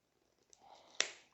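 Scissors snipping through a Bulbophyllum orchid during repotting: a faint click, then one crisp close snip, very quiet overall.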